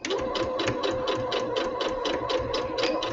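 A sewing machine stitches along a seam line, its rapid even chatter of needle strokes running steadily and close throughout, with no voices.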